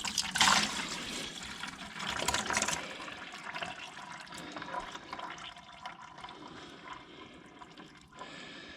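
Used engine oil pours and trickles from a John Deere A tractor engine into a catch container, a steady liquid stream that is loudest at first and then settles into a softer continuous dribble with no talk.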